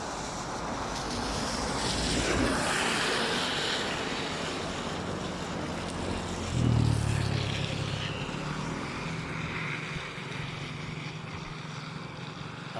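A swollen river rises in President Roxas, Capiz, with houses along its banks. Its water gives a steady, broad rushing roar that runs throughout, with a brief low surge near the middle.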